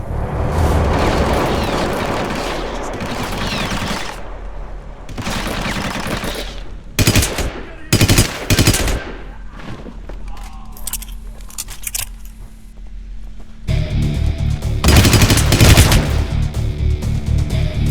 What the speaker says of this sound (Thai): เอ้าเป็นปืน ปืนลูกซอง